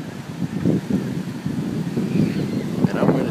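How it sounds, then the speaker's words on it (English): Strong wind buffets the microphone in heavy, rumbling gusts on a cold beach, with faint surf and muffled voices underneath. "it's windy as hell"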